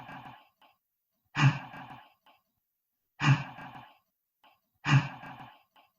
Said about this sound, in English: So the belly is acting like bellows, like fire bellows.